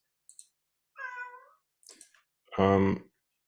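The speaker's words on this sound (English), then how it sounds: "Sorry about the meowing. I hope it's not too disturbing." A cat meows close by: a few soft chirps and mews, then one louder, drawn-out meow at the end.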